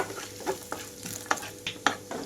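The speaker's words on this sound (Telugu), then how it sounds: "జీడిపప్పు పలుకులు కూడా వేసి వేయించుకుంటున్నాను." Cashew pieces fry in a pan of oil as a base for rice-rava and moong dal upma, a soft sizzle broken by several distinct scrapes and clicks of stirring.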